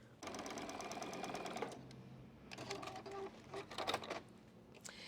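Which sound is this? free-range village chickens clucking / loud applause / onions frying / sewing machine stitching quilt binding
sewing machine stitching quilt binding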